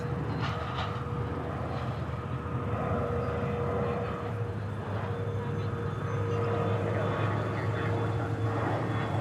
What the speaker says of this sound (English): Yes, keep those F-16s rolling.